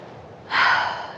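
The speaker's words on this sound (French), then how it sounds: "J'inspire par le nez, je bloque. J'expire par la bouche." A single deliberate breath during a relaxation exercise, air drawn and then pushed out through the mouth in one soft, close, breathy rush lasting under a second.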